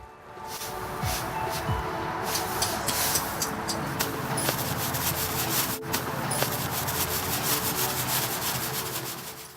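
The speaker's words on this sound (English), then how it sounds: "Grab your flathead shovel and do just as you did when infilling your putting green" Flathead shovel spreading 2040 sand infill across the fringe of a synthetic putting green, a steady gritty scraping and rubbing with scattered sharp crunches, close and continuous throughout with no talk.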